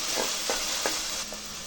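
Onions frying in a pan give off a steady, close sizzle of hot oil, broken by a few soft scraping strokes as they are stirred, with no voices.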